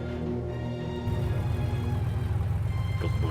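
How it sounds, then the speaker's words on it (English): Halo 3 Warthog idling in the video game: a steady low engine rumble that is loud and close, taking on a throbbing pulse after about a second and continuing alone with no talk. "So here's the idle Warthog sound. It sounds like this."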